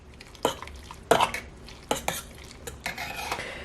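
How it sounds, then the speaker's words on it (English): Spoon scraping and clinking against the metal pot of an egg boiler while seasoning is stirred into ramen noodles, a few sharp knocks followed by softer scrapes, close and alone. "I'm going to add part of the seasoning packet and stir it in"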